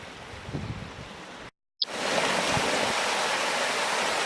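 A mountain stream in Ssanggok Valley gushes near a waterfall, a loud, steady broadband rush of water that surges up after a brief cutout and continues close and unbroken.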